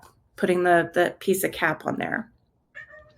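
A cat meows behind a door as someone talks over it, with a faint, brief cry rising near the end.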